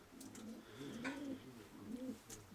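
Pigeons coo softly in a loft, a few low rolling calls rising and falling, quiet and close with faint rustling around them.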